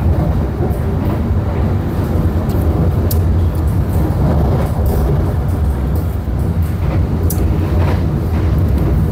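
Steady low rumble and rattle heard from inside a moving Ranggajati economy new generation passenger train, continuous and fairly loud with occasional clicks and knocks.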